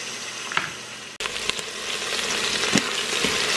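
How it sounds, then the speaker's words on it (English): Chicken pieces sear in a hot pan with a loud, crackling sizzle. After a brief clunk the frying grows denser and more vigorous, popping and spitting steadily with no talk. "start adding in the chicken, and we want to sear both sides"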